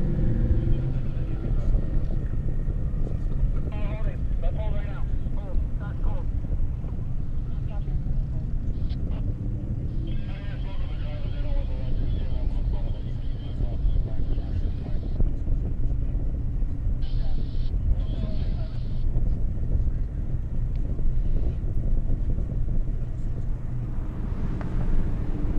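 A BMW 335i and a Mustang GT racing down an airstrip: steady engine roar and rumble that carries throughout, heard at a distance with a shifting engine tone and faint background chatter.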